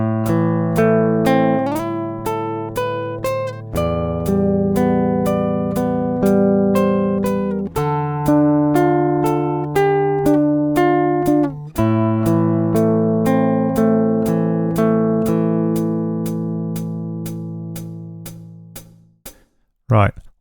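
Left-handed fingerstyle acoustic guitar plays two lines of a tune, a steady run of plucked notes over ringing bass, loud and close, with no talking.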